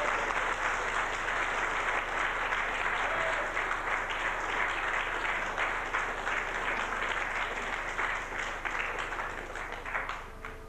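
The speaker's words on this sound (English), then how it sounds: "Give them all a big round of applause" Crowd at a 1981 hurling match for the Mick Scanlon Cup, Galbally vs Rathgar Gaels, applauding the referee and travelling supporters: a long, loud, steady wash of clapping that eases slightly near the end.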